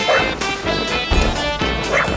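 A dog barks repeatedly and loudly at close range, about four sharp, harsh barks in quick succession with a rough, growly edge.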